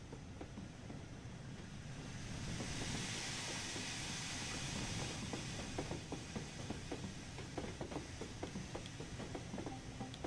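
A steam passenger train rolls into a station with many tracks in Train Sim World 2, a steady low rumble and hiss overlaid with regular rhythmic clicks of wheels over rail joints, fairly quiet and without any talking.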